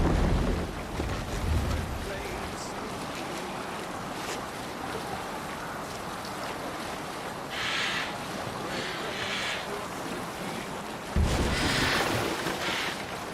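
Sailing ship with its sail raised on open water in a video game, waves washing and wind rushing in a steady bed, with louder surges of spray now and then.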